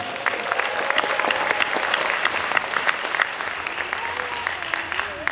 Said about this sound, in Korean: 동의하시면 박수 한번 보내주시기 바랍니다.